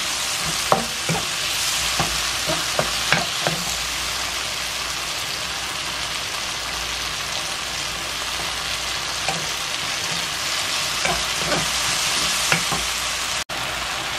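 Tomato fries and seasons in a pan before chicken goes in for tacos dorados, a continuous close sizzle broken by periodic spatula taps and stirring scrapes, with no one speaking.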